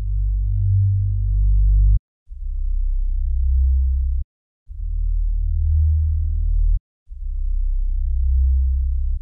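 Deep, smooth sub-bass notes play alone, four sustained tones of about two seconds each separated by short gaps, the pitch stepping between notes.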